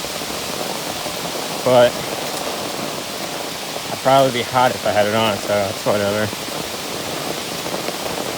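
Steady rain from a thunderstorm patters on an umbrella as a dense, even hiss that runs the whole time, with a person speaking close by in short bursts over it.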